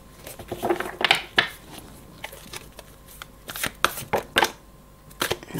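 Tarot cards being drawn and handled during a card reading: soft papery flicks, slaps and shuffles in scattered short bursts, fairly close and quiet.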